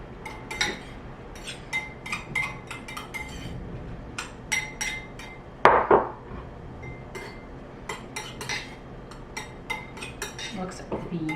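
Utensils clink and scrape against a bowl as eggplant and natto are mixed together, quick repeated metallic taps up close with one louder clatter midway, against a faint room background.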